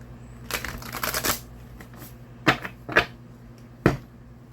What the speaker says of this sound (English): And I'm going to split this deck too after this second shuffle.